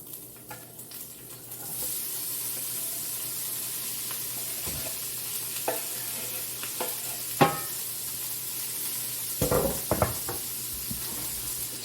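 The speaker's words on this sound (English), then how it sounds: "You can hear the sizzle." Steady, loud sizzling of onion and pepper frying in a pan, with a few scattered clicks and knocks of a utensil stirring.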